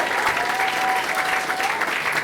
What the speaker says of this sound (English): can we have a huge round of applause for all the staff here at the stands?